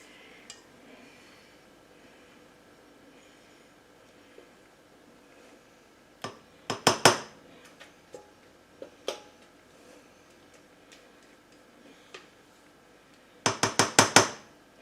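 A cooking pan slid and set down on a kitchen counter while making an Instant Pot New York cheesecake: two short clusters of metallic clanks and clinks, close by, in an otherwise quiet room.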